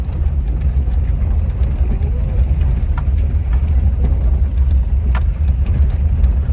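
A Toyota BJ40 engine runs with a steady, loud low rumble while the vehicle climbs a steep road in Pakistan, with occasional rattles over the continuous drone.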